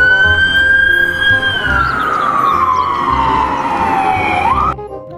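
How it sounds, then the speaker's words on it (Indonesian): An ambulance siren wails loud and close alone, its steady tone sliding slowly downward as the vehicle passes, then cutting off abruptly near the end. "ada mobil ambulan."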